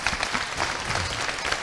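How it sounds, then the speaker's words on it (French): Live audience applauding outdoors in the courtyard of the Bastia citadel museum during a contemporary dance and photography event, a steady dense clatter of many hands that stays even and fairly near throughout. "on applaudit"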